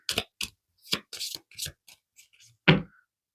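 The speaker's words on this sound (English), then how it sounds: "So I'm going to just keep shuffling." Tarot cards are shuffled by hand in a quiet room, giving a run of irregular short papery snaps and flutters, with a sharper final slap near the end.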